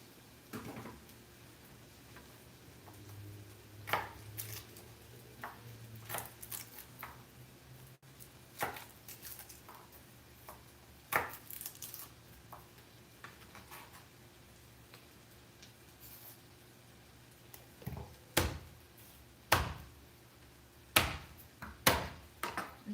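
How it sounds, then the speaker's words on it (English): Garlic being chopped with a knife on a cutting board in a home kitchen: quiet, irregular taps at first, then clearer, sharper knife strikes becoming more frequent toward the end, over a faint steady room hum with no talking. "I'm just chopping up some garlic now"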